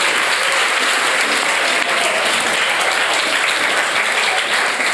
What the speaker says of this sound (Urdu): میں چاہوں گی کہ سب لوگ ان کے لیے زوردار تالیاں بجائیں۔